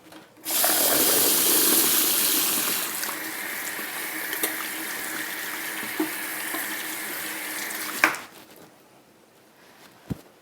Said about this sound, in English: I'm just gonna rinse off my hands very quickly.